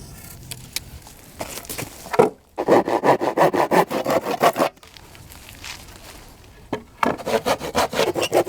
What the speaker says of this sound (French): Marque 9 cm et scie les angles.